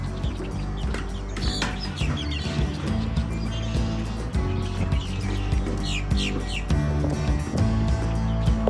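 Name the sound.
loud birds calling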